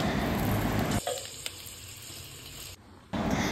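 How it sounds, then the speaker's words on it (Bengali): Onions fry with whole garam masala in a wok, a loud sizzle for the first second that drops to a quieter crackle and then surges back at the end. "তারপর পেঁয়াজটা দিয়ে ভেজে নেবে।"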